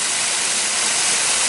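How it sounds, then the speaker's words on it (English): Water from a pump pipe pours steadily into a tilapia pond, a dense, even hiss of splashing close by with no voices. "That's making the most splash in the water."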